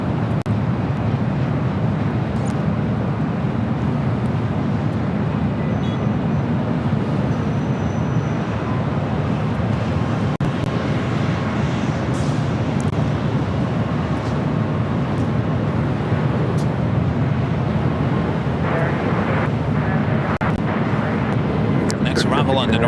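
Air France Boeing 777-300ER airliner, a 15-year-old jet at LAX, producing a continuous loud engine roar and rumble that holds steady across the whole span, with wind buffeting the microphone.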